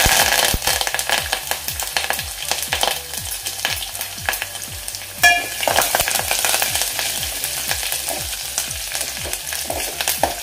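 Garlic and curry leaves fry in hot oil, with a steady loud sizzle broken by a rapid run of scraping stirs and spatula knocks against the pan, and one sharper clatter midway.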